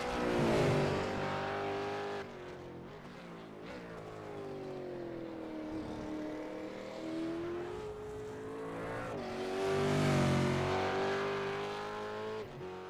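Supercars race around the narrow Montreal circuit in a racing video game, engines droning and revving continuously with rising and falling pitch as gears shift, swelling louder near the start and again toward the end.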